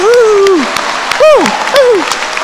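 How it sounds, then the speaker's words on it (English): Graduates at a College of Natural Resources commencement in May 2022 are applauded by the audience, with a bright, sustained wash of clapping cut through by several loud, close voiced 'woo' whoops. "How about a round of applause for all of our graduates?"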